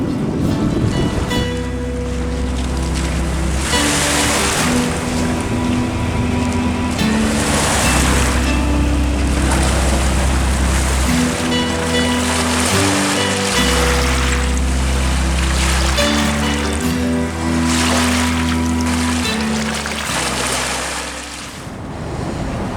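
The tide coming in on the River Thames foreshore, with loud rolling surges of water and wind rumble pulsing in slow irregular swells, continuous throughout with no voices.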